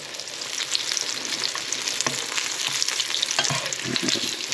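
Cornmeal-coated sardines, dipped in egg first, fry in a hot pan with a steady, close, dense sizzle and crackle throughout, plus a few soft pops and utensil touches.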